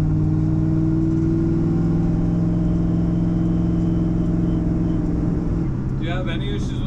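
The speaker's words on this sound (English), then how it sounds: "You got the throaty V8 and lots of get up and go." A V8 engine in a home-built 1966 IH Scout hot rod pickup rumbles loud and close with a steady, throaty low drone, then briefly swells before cutting off as a voice begins.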